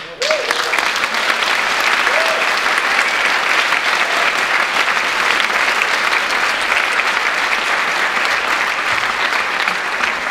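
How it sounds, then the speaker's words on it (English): A theatre audience at an award presentation for a magician gives a long, loud and steady round of applause, dense clapping sustained for about ten seconds with a few faint voices mixed in. "I'd like you to join me in a round of applause"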